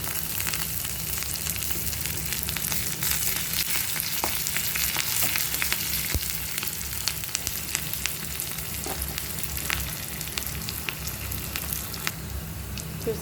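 A tempering of curry leaves and coriander frying in hot oil for podi pappu sizzles steadily and close up, a dense continuous crackle with small pops and no talking.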